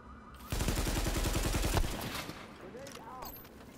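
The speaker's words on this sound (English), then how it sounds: "grenades going off everywhere." Rapid automatic gunfire and grenade blasts from The Division's Dark Zone crackle in a dense burst of shots, then fade into softer rumbling and scattered game effects.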